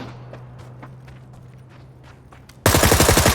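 Video game gunfire while shooting at a bot: quiet scattered clicks and a low hum, then a loud burst of rapid automatic fire erupting near the end and rattling on.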